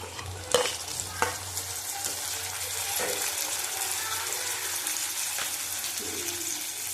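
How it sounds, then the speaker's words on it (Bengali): Two tomatoes go into a pan of frying onions and spices for an egg chicken tarka, with a few sharp clatters of the spatula early on, then a steady sizzle and stirring scrape that runs close and continuous. "2টো টমেটো দিয়ে দিলাম।"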